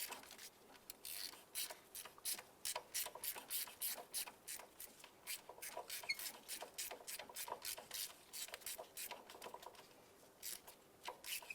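A hand ratchet clicks in quick, irregular bursts while removing a stud to shift the alternator on a 2011-2019 Ford Fiesta, close and fairly quiet.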